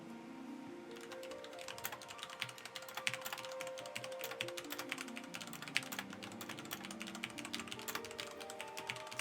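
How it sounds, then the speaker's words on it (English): Rapid clacky keystrokes on a computer keyboard patter in a dense, uneven stream, close and crisp over quiet game music. "You can hear me typing a lot because I have a clacky keyboard."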